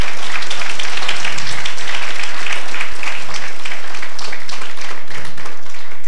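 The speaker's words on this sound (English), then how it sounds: "clap for the other 13 people who I've worked with in this committee." An audience at the All Kenyan Moot Court Competition claps for the organizing committee, a dense, steady wash of many hands, loud and continuous throughout with no talk over it.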